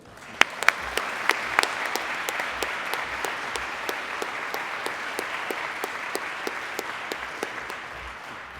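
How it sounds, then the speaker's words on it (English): Sustained applause from an audience at a university scholarship brunch honoring awardees, with dense, steady clapping and a few sharper claps standing out, lasting the whole stretch. "So one more round of applause for our awardees."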